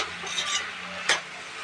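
Cooked potatoes being mixed in a pan, a soft scraping stir with a faint sizzle beneath, punctuated by one sharper scrape near the end.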